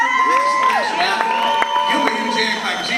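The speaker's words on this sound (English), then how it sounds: "give him a huge hand clap because he tore that song up" Audience in a hall cheers, whoops and shouts steadily throughout, loud and close, with some clapping mixed in under the crowd noise.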